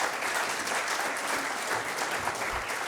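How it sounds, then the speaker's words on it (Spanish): Steady applause from an audience at an academic colloquium on higher education reform, a dense even wash of clapping that carries through the whole stretch without pause. "Un aplauso para nuestros coordinadores."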